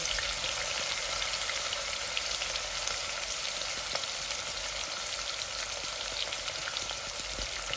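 Onions fry with peas in a pan for a Bengali curry, a steady close hiss of sizzling oil with faint crackles throughout and no talking.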